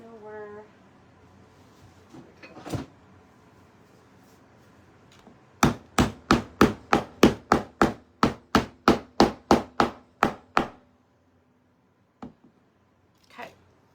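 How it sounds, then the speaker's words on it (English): A hammer strikes scrap wood while a homemade banjo is being built: about fifteen close, evenly spaced, sharp blows in a quick steady rhythm, a few isolated knocks before and after, and brief talk at the start. "let me see if I can find my hammer really quick"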